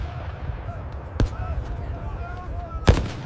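Covering gunfire and artillery in a 1942 desert battle: two sharp, heavy blasts about a second and a half apart stand out over a low rumbling background while someone narrates.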